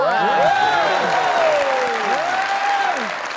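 A studio audience at a comedy talk show breaks into loud, sustained clapping with rising whoops and cheers, easing slightly toward the end.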